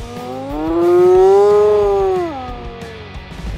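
A single wild animal lets out one loud, sustained tonal howl close by, rising and holding for about two seconds before sliding down and fading, with no talking.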